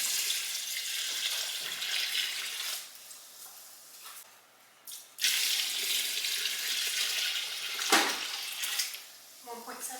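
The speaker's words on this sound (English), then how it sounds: "We're using filtered water. So let's go ahead and add that in." Filtered water poured into pear wine must, a steady rushing splash that pauses briefly twice before resuming, with a few sloshing bursts near the end.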